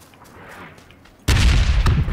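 Red zone bombing in PUBG lands abruptly with loud, rumbling explosive blasts that hit all at once and keep booming close by after a quieter stretch.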